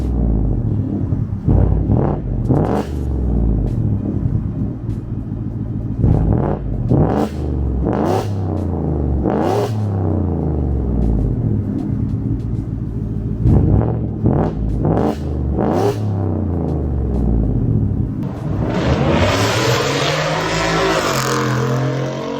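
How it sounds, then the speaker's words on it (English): A 2022 Ford F-150 with the 5.0 V8 and its muffler and resonator deleted: a series of loud, deep throttle blips and revs close by, ending in a sustained roaring pull as the truck accelerates away. "Let you guys hear what the new exhaust sounds like."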